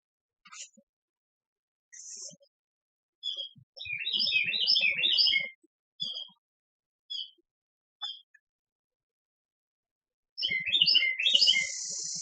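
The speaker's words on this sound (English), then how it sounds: "Can you hear that bird out there singing?" A bird sings outdoors in short bursts of bright chirps and trills separated by pauses, clear and moderately close, with quiet low sounds beneath.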